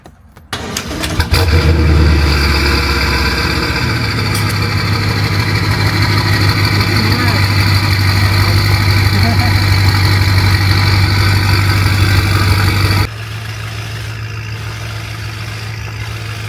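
A BMW M550i fires up and settles into a steady, strong idle with a deep, even rumble close by; near the end the sound drops to a quieter, lower hum.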